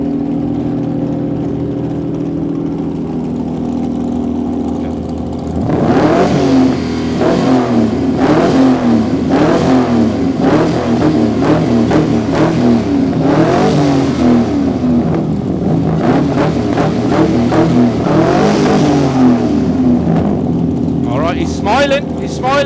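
A Ginetta car at a supercar weekend event revs hard for a loudness test, its engine roaring close and loud in repeated rising bursts after a steady idle, with people talking over it.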